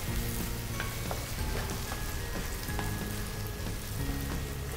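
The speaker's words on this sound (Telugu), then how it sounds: "ఇప్పుడు ఈ ఫ్లేవర్ అంతా వాటికి పట్టేదాకా బాగా రోస్ట్ చేసేయాలి." Raw onions roasting in ghee in a pan for a prawn roast dish, a steady close sizzle and crackle with faint stirring clicks, no talking.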